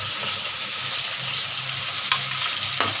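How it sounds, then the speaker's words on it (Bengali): Onion sizzling steadily in hot oil, a dense continuous crackle with a couple of sharp clicks of a utensil against the pan near the end; no voices. "এই পেঁয়াজটা আমি এবার এই তেলটার মধ্যে দিয়ে দিচ্ছি আস্তে করে।"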